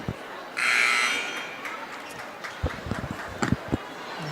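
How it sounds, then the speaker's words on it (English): A loud electronic buzzer blares for about a second in a high school basketball gym before a game between Mobridge-Pollock and Winner, then crowd clatter and murmur fill the space. "And the buzzer sounds as teams are coming out here."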